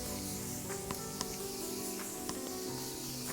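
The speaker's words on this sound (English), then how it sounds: "I'm gonna take my Morphe Continuous Setting Mist and spray it down" Morphe Continuous Setting Mist sprayed onto a face, a soft airy hiss from the pump bottle that sits faintly over a low background hum, with a few small clicks scattered through it.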